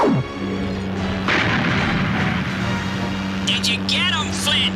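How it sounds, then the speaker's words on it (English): Cartoon rockets fired in an animated battle, a loud continuous roaring blast with rumbling low end lasting several seconds, with a character's voice and whistling whooshes over it near the end. "Don't let him get away! Fire your rockets!"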